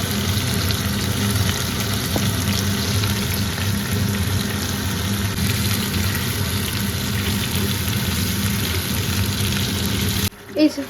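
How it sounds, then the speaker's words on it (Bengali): Chicken pieces fry in a little white oil mixed with half a spoon of ghee, giving a constant close crackling sizzle for about ten seconds that cuts off abruptly near the end. "এটা ভাজার জন্য অল্প একটু সাদা তেল আর তার সাথে এক চাম হাফ চামচ ঘি মিশিয়ে এটা ভাজছি"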